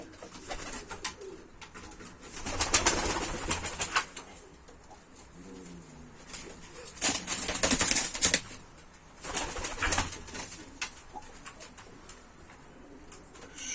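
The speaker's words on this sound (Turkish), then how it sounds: "Şu öten kuşumuz da çok iyi ama sesi kısıldı o kuşun." Bayburt pigeons cooing in a loft, soft throaty coos rising in a few swells over faint background clatter, with occasional wing flaps and no talking.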